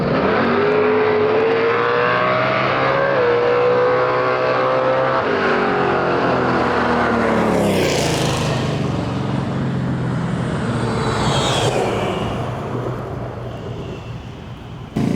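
A drag race car with a 6-litre rod-and-piston engine, Turbo 400 transmission and 88 mm turbo revs hard at a small-tire race event. The loud engine roar climbs in pitch, then sweeps past with a rushing whoosh and trails off.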